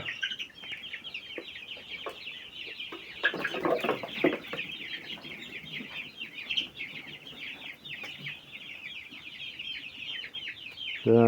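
Young cockerels and chickens clucking and chirping continuously at close range, a dense overlapping flock with a brief louder burst of activity partway through.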